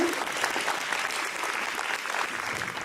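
Elementary school gathering applauding the staff at a Students of the Month event, a steady, close burst of crowd clapping that carries on evenly for a few seconds.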